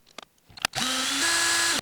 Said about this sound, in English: install it in the chuck of our drill real quick, spin it up, and straighten it out